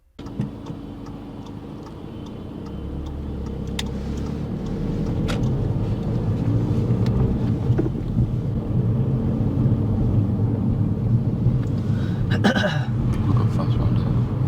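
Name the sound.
car moving off and driving during driving test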